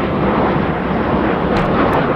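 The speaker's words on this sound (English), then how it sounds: "They rerouted the planes going into Cleveland since we moved in" A fixed-wing airplane on its approach route into Cleveland passes overhead, a loud steady jet roar filling the whole stretch with no talking.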